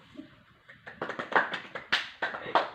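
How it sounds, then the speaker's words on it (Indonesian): Brief applause from a third-grade classroom of pupils clapping for their group work, starting with a few scattered claps and swelling into a loose burst of hand claps that fades quickly, fairly close. "Mari kita beri aplaus untuk kerja kelompok kalian"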